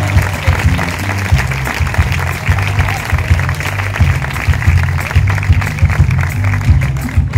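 A live audience at a show in San José applauds, a steady dense wash of clapping that carries on over a low, humming musical backdrop.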